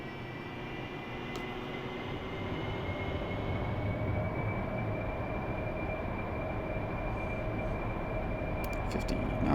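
A virtual AV-8B Harrier jet engine throttles up in a flight simulator game, a steady loud broadband roar with a rising whine that builds slowly and continuously.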